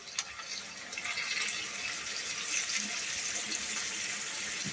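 Hot water pours into a pot of Hungarian goulash, a steady hissing splash that runs alone and close for a few seconds.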